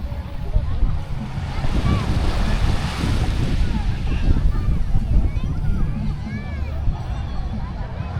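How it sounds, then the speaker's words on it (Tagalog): Surf washing onto a beach at Calayo in the Philippines, with steady rolling wave noise and wind buffeting the microphone throughout, fairly loud and continuous. "Ngayon kasi medyo merong konting alon lang talaga siya."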